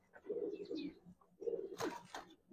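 Pigeons at a loft give soft, throaty coos in two short bursts, with a brief flutter or rustle between them, close but quiet.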